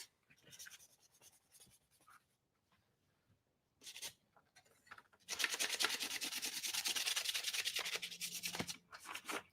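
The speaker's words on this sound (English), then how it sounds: "I like to sand the words to make them pop" Sandpaper rubbed across painted lettering on a metal flour sifter, starting as faint intermittent scratching with pauses, then a steady, continuous close-up rasp for several seconds.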